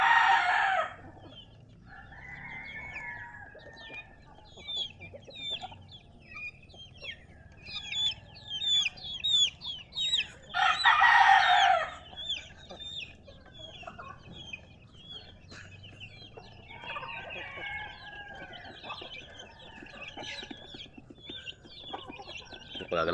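Many chickens at a coop cluck and crow together in the morning, with repeated loud rooster crows standing out over a constant busy chatter of clucks, all nearby and mostly without speech.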